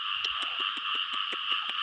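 Frogs call in a steady rhythmic chorus of sharp repeated croaks, about five per second, over a continuous high trilling drone, close and fairly loud with no voices.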